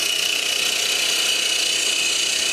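A parting tool cutting into spinning wood on a lathe, giving a steady, loud, hissing scrape with a sustained whine running evenly through the short stretch.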